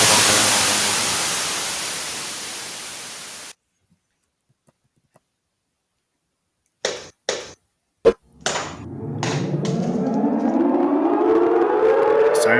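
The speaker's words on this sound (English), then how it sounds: "Sirens are going off." Civil defense tornado siren, a loud wailing tone that rises in pitch after several sharp clicks and thumps, following a burst of static and a near-silent gap.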